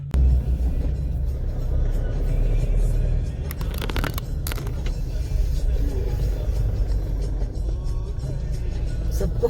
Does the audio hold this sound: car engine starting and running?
yes